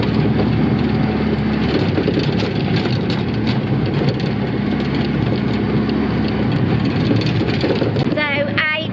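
Auto rickshaw tuk-tuk engine while riding in Gokarna, India, a continuous droning, rattling low hum heard close up, with a brief higher chirp near the end.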